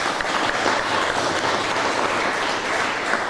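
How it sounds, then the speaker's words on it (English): Audience at a startup day keynote gives a round of applause, a thick continuous wash of clapping heard up close for a few seconds. "A round of applause."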